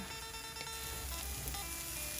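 Soft, steady sizzling of pounded aromatics and dried chillies stir-frying in a hot pan, low and continuous with no voices.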